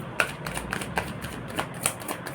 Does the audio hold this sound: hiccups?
no